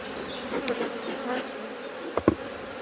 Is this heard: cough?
no